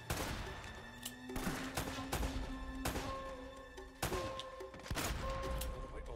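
Gunfire in the video game Uncharted: Drake's Fortune, a series of sharp shots and short bursts spread across several seconds, fairly faint, with thuds and ringing tones between them.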